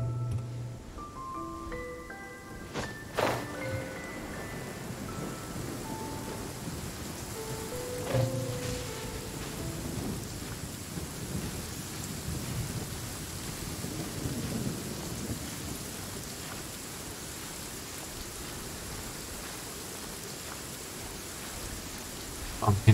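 Rain and thunder in the video game Genshin Impact, with steady rainfall hissing across a plateau and several rolling thunder rumbles and cracks rising above it, all fairly faint and without speech.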